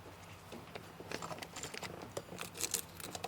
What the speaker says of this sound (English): Use my pocket knife and just cut it.